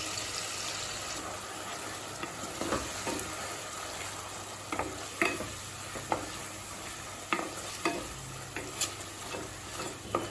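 Chilli paneer sauces of vinegar, soy, chilli and tomato being stirred in a pan, with a steady frying sizzle under repeated sharp clinks and scrapes of a spoon against the metal, close and moderately loud.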